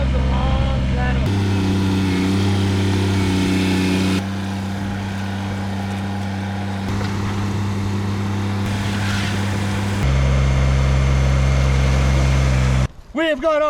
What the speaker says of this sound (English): I have this little Kubota tractor